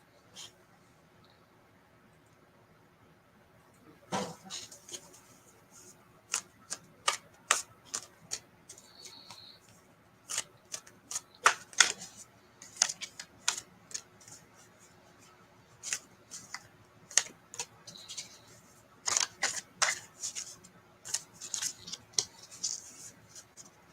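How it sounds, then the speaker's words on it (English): Cards are shuffled and riffled in bursts of quick, crisp clicks and flutters, with pauses in between, close by. "I'm going to actually put these together and shuffle"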